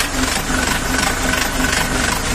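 A 50-horsepower four-wheel-drive Lomon mini tractor engine idling steadily with a constant rumbling drone and faint rhythmic knocking, close by and fairly loud, no voices.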